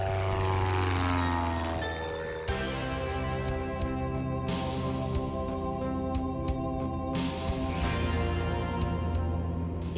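A Piper Cherokee light propeller airplane departs, its engine droning loud and steady with strong harmonic tones that shift as it climbs away, with no voices over it.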